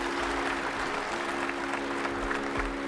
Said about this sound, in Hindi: एक बार दोनों के लिए ताली बजाओ